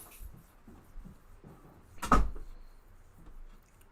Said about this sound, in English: Can you shut the door for me, please, Ams?